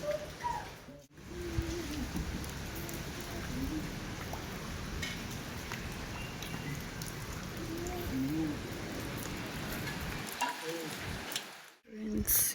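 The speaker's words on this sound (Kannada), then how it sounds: "ಬೆಳಗ್ಗೆನೇ ಮಳೆ ಸ್ಟಾರ್ಟ್ ಆಗಿದೆ" Morning rain falling steadily in Madikeri, Coorg, a continuous even hiss of drops on surfaces throughout, with a few faint bird calls rising above it now and then.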